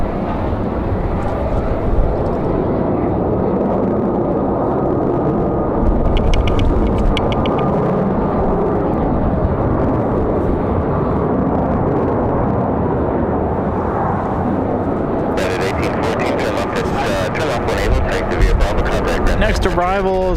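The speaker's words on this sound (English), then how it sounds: "Arrival for United from Newark, 737 MAX 9." A United 737 MAX 9 arriving from Newark at Raleigh-Durham airport gives a steady, broad jet roar under strong wind noise, with gusts buffeting throughout and a sharper high rushing swell near the end.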